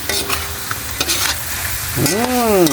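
Pork hits a hot pan for binagoongan, bursting into a steady sizzle while a utensil stirs and scrapes against the pan, close and clear.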